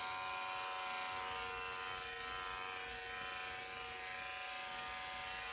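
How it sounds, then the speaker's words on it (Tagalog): An old electric shaver buzzes steadily and loudly throughout, a continuous close motor drone with faint tonal whine and no speech. "Itong shaver na ito. Tagal na."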